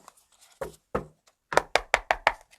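Knuckles rapping on an Archetypes Oracle card deck, a few soft taps followed by a quick run of five firm, close knocks on the stacked cards, with faint handling noise in between.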